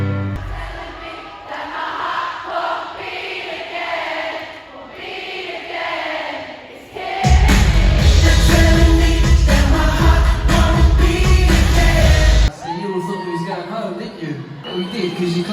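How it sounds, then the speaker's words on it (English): A concert crowd at a show claps and cheers loudly, a dense roar of applause and shouting that swells suddenly and dominates for several seconds between stretches of amplified singing and talk. "because you clapped and you cheered"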